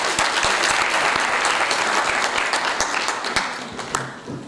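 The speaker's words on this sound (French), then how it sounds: "On a accueilli sous l'applaudissement." A crowd greets a speaker with loud, full applause, a thick, continuous wash of clapping with a few sharper claps standing out before it eases slightly.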